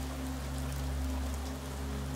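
Steady rain falls as a continuous soft hiss with a low constant hum underneath, even and unbroken, with no talking.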